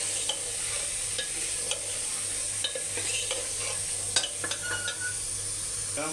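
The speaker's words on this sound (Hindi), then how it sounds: "इस तरह से इसे भून लेते हैं" Mutton for dum biryani stir-fried in a pot with spices and coriander: an ongoing sizzle over a low steady hum, punctuated by repeated spoon scrapes and clinks against the metal.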